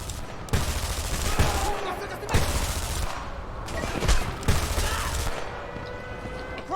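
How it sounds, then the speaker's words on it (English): Rapid automatic weapon fire in the Homefront shooter game rattles out in dense bursts, with several louder shots punching through a continuous barrage of battle noise. "Best thing about this weapon right now is that it can shoot a lot of bullets a lot faster"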